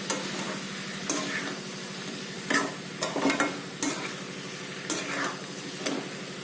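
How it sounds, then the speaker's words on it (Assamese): Spices get stirred in a hot pan for pigeon curry, a steady sizzle broken by several sharp scraping strokes and clinks of the spoon at irregular intervals, close up with no voices. "ইয়াত এইখিনি ভালকৈ লৰাই দিম।"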